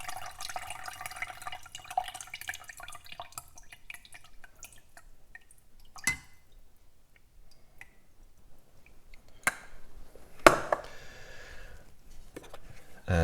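Cold brew coffee dripping from a lifted filter, soft irregular drips and trickles close by, with a few sharper clicks and taps, quiet with no talking.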